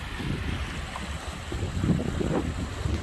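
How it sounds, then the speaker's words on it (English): Floodwater in a high, swollen creek rushing and draining past, a steady broadband wash with gurgling surges, continuous and close, with wind buffeting the microphone and no talk. "A fella could have a good snooze listening to that water."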